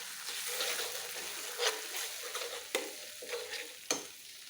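An egg sizzles in a hot pan of noodles with tomato, turmeric and chili, a continuous crackling fry punctuated by several sharp stirring scrapes and clicks, close and moderately quiet.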